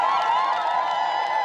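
A crowd at an outdoor road and health centre inauguration ceremony cheers and applauds steadily, a dense, continuous wash of many voices and clapping with a bright, fairly loud texture throughout.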